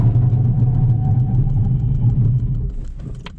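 A Peugeot 208 II with the 1.2 VTi 75 hp petrol engine pulls through a long second gear, giving a steady, loud mid-pitched engine drone that eases off slightly near the end.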